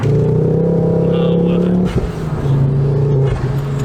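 Ford Focus RS engine under acceleration, a loud steady droning intake note that breaks off near the middle with a sharp blow-off burst, then resumes, with people talking over it.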